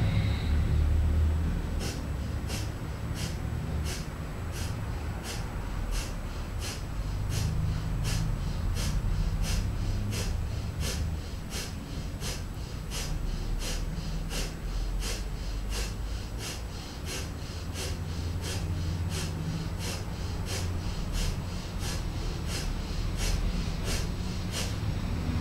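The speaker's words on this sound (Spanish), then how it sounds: "Volvemos a respiración de fuego." Rapid, rhythmic breath-of-fire yoga breathing through the nose, a fast series of short forceful exhalations pulsing at an even pace and fairly close, with no talking.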